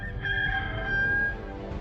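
A rooster crows once in a long, loud, drawn-out cock-a-doodle-doo, close and clear over a low background rumble, fading at the end.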